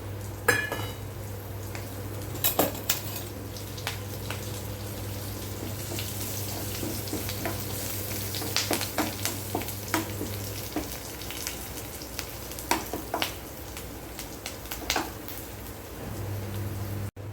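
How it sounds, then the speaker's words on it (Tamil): Mustard seeds, urad dal, cumin, green and dried red chilies, curry leaves and turmeric crackle and sizzle in hot oil for a raw mango dish, with steady frying hiss, irregular popping bursts and occasional utensil clinks. "பச்சை மிளகா வரமிளகா கருவேப்பில்லை அப்புறம் வந்து கடுகு உளுத்தம்பருப்பு ஜீரகம் மஞ்சள் பொடி எல்லாம் போட்டு நம்ம தலைச்சிடலாம்"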